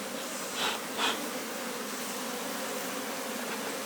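Honey bees buzz around an opened hive during a colony split as wax frames are set in place, a dense steady hum with a couple of louder passes as individual bees fly close by.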